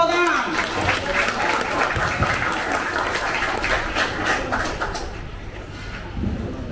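Audience applause welcoming Pak Andika Perkasa at a youth discussion forum, a steady wash of clapping from a crowd with voices mixed in, fading slightly near the end.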